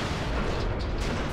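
A tank gun firing in the video game World of Tanks, a single dull, muffled boom that spreads into a broad, fairly faint rumble.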